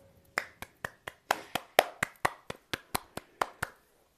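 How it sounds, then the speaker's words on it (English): Fifteen or so single hand claps at a steady, slightly uneven pace, each sharp and close with a short ring, in a quiet room with no talking. "I'm trying to clap, hold on."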